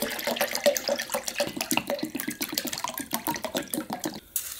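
Bottled water pours into kimchi broth for white kimchi, a steady, close splashing trickle with rapid rhythmic gurgles that stops abruptly at the end.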